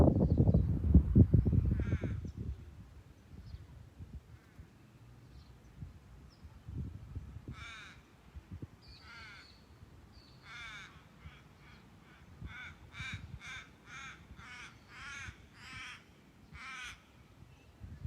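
A crow caws outdoors during a quiet morning yoga practice, first in a few scattered calls and then in a rapid series of repeated caws, at moderate distance over soft low background noise.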